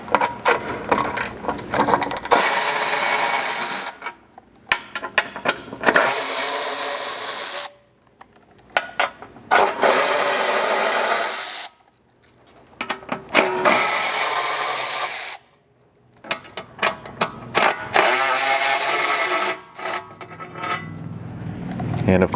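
A socket ratchet clicks in quick repeated bursts as bolts come off a skid plate on a Lexus GX 550, loud and near, broken by brief pauses between turns.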